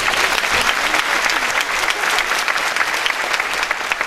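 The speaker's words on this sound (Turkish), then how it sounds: "Bu salonu ağzına kadar tıklım tıklım dolduran dernek başkanımız ve yönetimde güçlü bir alkış istiyorum." A packed hall audience at a Çankırı village association gathering, honoring the association president and board, breaks into loud, dense applause that holds steady and sustained throughout, with no voice over it.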